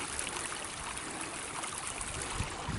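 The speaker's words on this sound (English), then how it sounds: "It looks like it's a all year round creek." Year-round creek flowing over rock along a state park hiking trail, a steady, close rushing and trickling of water that runs without a break and with no voices.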